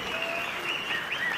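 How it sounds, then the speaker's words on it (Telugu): An audience at a public scheme launch event in Chirala claps together, a brief burst of dense, steady applause with some higher chatter mixed in. "గట్టిగా చప్పట్లు కొట్టి అభినందించాలి"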